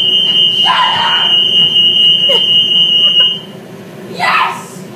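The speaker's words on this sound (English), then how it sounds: "Second time the fire alarm's on." A kitchen fire alarm beeps steadily while cooking, a loud continuous tone running under excited voices and shouts before cutting out.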